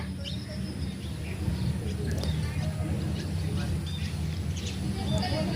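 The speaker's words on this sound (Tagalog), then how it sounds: "ang daming ibon may meeting yan sa kabila" Many birds chirping and calling at once in the midday outdoors, a dense, continuous chatter of tweets at moderate distance.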